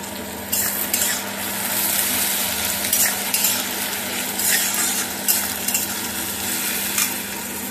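Vermicelli sizzles steadily in a hot pan while a utensil stirs and scrapes in short bursts, close and fairly loud, no voices.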